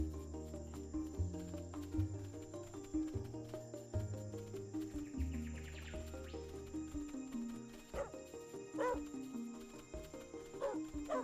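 Dog barks in the video game Let's Herd, a few short yips toward the end over looping game music and a constant insect-like drone.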